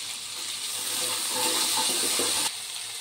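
Chopped green chilies go into a pan of frying masala for a prawn and yogurt curry, making a soft, continuous hiss and sizzle that swells in the middle and drops off abruptly near the end.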